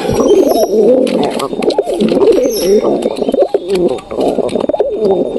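Pet pigeons coo loudly and close by in a continuous, overlapping throaty burble with soft wing and movement sounds, a faint voice barely present.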